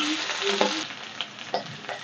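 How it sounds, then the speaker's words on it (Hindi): Capsicum and onion sizzle in a hot pan, a close, steady crackling fry with a few small scraping stirs over two seconds. "इसको एक मिनट तक हम भून लेंगे, थोड़ा सा ये क्रंच हो जाए।"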